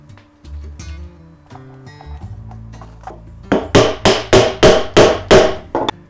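A series of sharp metallic hammer strikes setting copper rivet burrs on a leather bracer, about eight in a steady rhythm, loud and close, following quieter clinks and handling noises.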